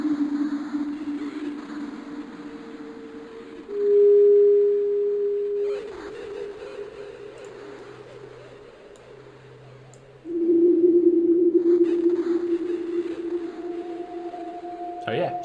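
Ambient tones from a modular synthesizer Krell patch: sustained, drifting sine-like pitches that swell and fade, with a brighter burst near the middle and a low hum underneath, played alone without talk.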